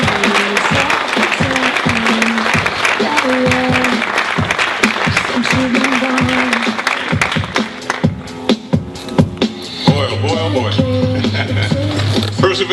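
An audience gives a loud, sustained round of clapping, with a voice talking over the applause and a tonal background sound running throughout.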